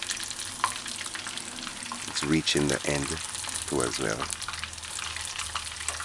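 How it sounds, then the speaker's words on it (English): Chicken breast tenders deep frying in oil on a stove at medium-high heat, a steady crackling sizzle running underneath as a person talks over it. "A tip with frying, you see when you're frying and the sizzling gets less"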